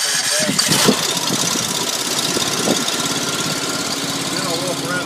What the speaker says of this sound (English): in order to crank it, I just turn the gas up